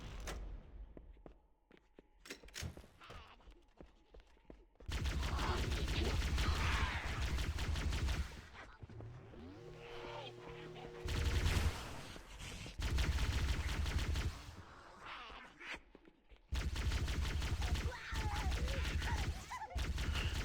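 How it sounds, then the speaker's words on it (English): Pistol gunfire in Halo: Combat Evolved, with loud bursts of shots in quick clusters separated by short quiet gaps and no talking. "here I'm trying to be intentionally precise with the pistol because I realize that I'm running out of ammo"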